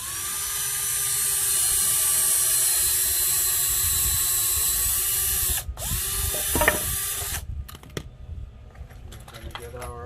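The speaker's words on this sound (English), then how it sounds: "So I'm going to connect the pieces, so I like to pre-drill." A power drill pre-drills holes in wooden pieces, a loud steady whine for several seconds that stops abruptly, then scattered clicks and brief tool noises.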